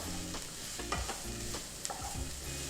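Two green chillies stir-fry in a pan, giving a soft, faint sizzle with a few scraping strokes of the spoon, and no talking.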